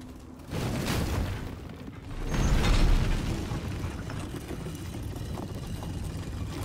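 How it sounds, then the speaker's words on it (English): An elevator mechanism in Remnant 2 grinds into motion with a low rumbling surge. It swells to a heavy peak partway through, then settles into a steady mechanical drone. "Elevator here."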